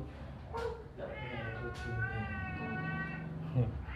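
A big cat meows up close in a hair salon: one long, drawn-out, tonal meow, loud and clear over a low background hum.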